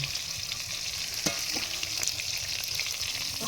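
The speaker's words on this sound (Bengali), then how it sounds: "এই যে হচ্ছে এখনো মাছ কিন্তু টকবক করে ফুটছে কড়াতে" Pangas fish fries in oil in a karai over an outdoor clay stove, giving a steady, close, bubbling sizzle throughout, with a few sharp crackles and pops and no talking.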